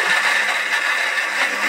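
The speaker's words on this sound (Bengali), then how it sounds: "এবার এটা গ্রাইন্ডারে একদম সুন্দর করে গ্রাইন্ড করে নেব।" A kitchen mixer grinder runs continuously, blending prawns with chillies and tomato pieces, a steady high-pitched whir at constant speed without any talking.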